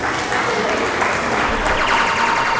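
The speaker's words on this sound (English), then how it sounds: "round of applause for our MC" A festival crowd at a Kenyan event in Columbus, Ohio applauds the MC with a steady, dense wash of clapping that holds evenly throughout at fairly close range.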